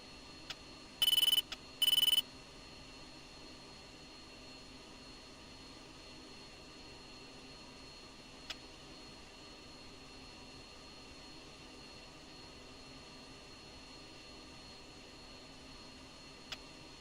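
F-16 jet engines taxiing in a flight simulator game give a faint, steady whining hum, broken early by two short electronic beeps.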